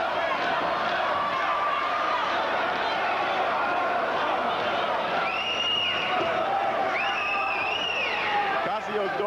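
A boxing crowd in Chicago cheers its hometown fighter, Young Joe Louis, during a WBA cruiserweight championship bout; a dense, steady roar with scattered whistles runs throughout beneath continuous commentator talk.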